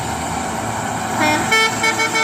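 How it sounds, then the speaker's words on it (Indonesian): A truck's telolet horn blares in a melodic, tooting pattern over steady traffic noise, several short bursts near the end, fairly close and loud. "Kasih telolet kita"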